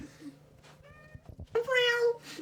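A cat meows several times, a short faint call early on and then a louder, drawn-out meow near the end, with light background noise and brief chatter from people nearby.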